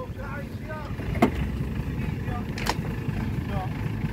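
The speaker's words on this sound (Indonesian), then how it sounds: "Oke, ini ada mesin BIMO 102." BIMO 102 corn harvester running during a maize harvest, a steady low engine rumble with wind buffeting the microphone and brief sharper knocks and whistling tones over the drone.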